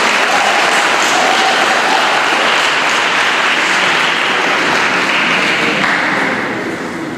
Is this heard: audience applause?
yes